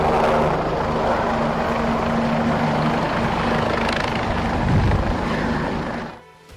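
A helicopter hired for an election campaign flies past, its loud steady rotor and engine roar sustained for several seconds before fading out abruptly.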